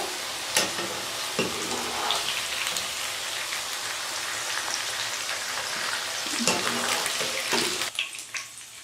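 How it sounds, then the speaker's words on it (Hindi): Okra half-frying in hot oil gives a steady, dense sizzle close up, with a few sharper clinks and stirring noises breaking through. "भिंडी को मैंने फ्राई कर लिया है, इसको मैंने हाफ़ फ्राई किया है"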